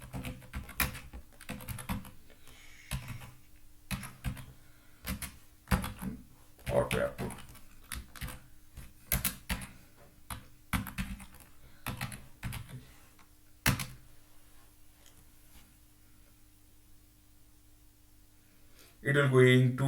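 Fingers type a Terraform command on a computer keyboard, an irregular stream of close key clicks with a steady hum underneath, going quiet before a brief louder sound at the end.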